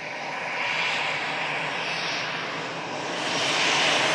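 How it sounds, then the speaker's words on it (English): EasyJet airliner from Amsterdam taxiing off the runway at Manchester Airport, a steady broadband engine roar that holds level throughout and swells slightly toward the end, heard alone at moderate distance. "There's the EasyJet from Amsterdam just vacates."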